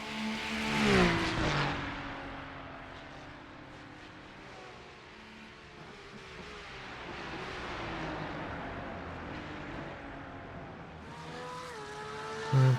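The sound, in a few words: two Ferrari race cars battling in iRacing game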